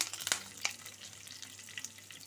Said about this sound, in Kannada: ಇದು ಸ್ವಲ್ಪ ಫ್ರೈ ಆಗಬೇಕು